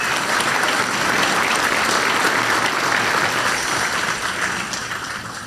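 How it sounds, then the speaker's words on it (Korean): Sustained applause from an audience at a Korean government event on investment in the Honam region, a dense steady clatter of many hands that fills the whole stretch and tapers slightly near the end. "다시 한번 박수 부탁드립니다."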